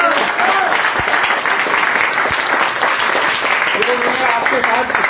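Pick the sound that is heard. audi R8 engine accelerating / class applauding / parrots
class applauding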